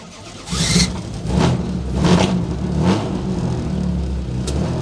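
A 1963 Jaguar E-type Lightweight engine cranks and fires, then settles into a loud, rough running note with a few throttle blips, close by and with no talking.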